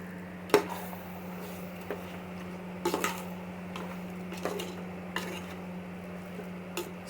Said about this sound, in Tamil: சிக்கன் போட்டாச்சு. இது ஒரு 5 மினிட்ஸ் நல்லா வதங்கட்டும்.